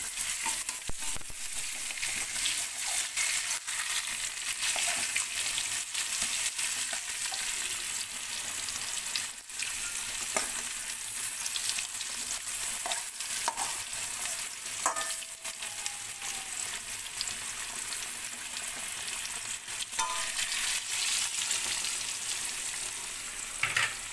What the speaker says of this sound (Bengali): আলুটা খুব সুন্দর করে একটু ভাজবো লাল লাল করে।